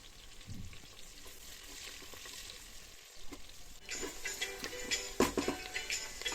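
Lotus root (kanwal kakri) frying in hot oil until browned, a steady crackling sizzle that grows louder and busier in the second half, with sharp spatters and stirring scrapes near the end.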